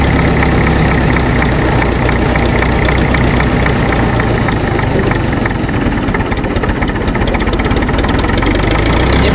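An MTZ tractor engine, recently restored, idles steadily and loudly close by, a continuous low diesel rumble with faint knocking throughout and no voices.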